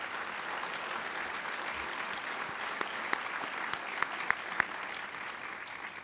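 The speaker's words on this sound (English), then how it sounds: "I think they all deserve a nice round of applause." Audience at a New York Tech Meetup event applauding steadily, a dense even wash of clapping with a few sharper individual claps standing out near the end.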